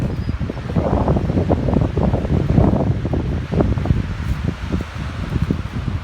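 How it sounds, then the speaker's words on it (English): Strong wind gusting over a lakeside cottage on a rough day with whitecaps, a loud, continuous roaring buffet against the microphone with surging rumbles and no speech. "it is really whipping. So I'll probably hold off to do the backside till the wind calms down."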